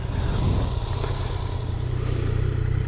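A 2017 Yamaha FZ-09 motorcycle idles out on the street, its engine a loud, steady low rumble that holds evenly close by, with no talk over it.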